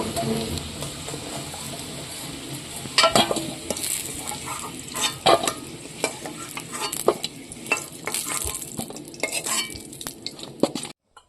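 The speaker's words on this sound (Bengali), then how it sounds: "দেখুন, আলুগুলো আমি ভাজি নিলাম, এখন আমি নামিয়ে নিব।" Cut potatoes frying in oil in a home kitchen pan, a steady sizzle broken by clattering stirs and scrapes of a utensil against the pan, close and fairly loud, with no talking.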